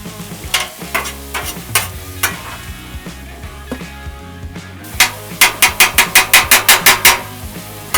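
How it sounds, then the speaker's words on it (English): Cabbage and onions saute in oil, a soft sizzle under clanking, scraping stirring with a utensil, ending in a quick run of rhythmic metallic taps. "This is the cabbage and the onions. We're gonna saute it up."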